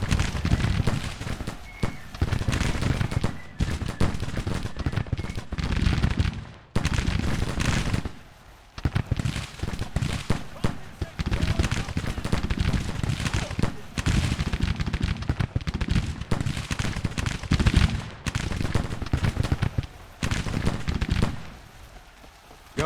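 Musket and cannon gunfire from a Civil War battle in the strategy game Grand Tactician, loud crackling volleys and bursts in repeated clusters with short gaps, someone talking over parts of it.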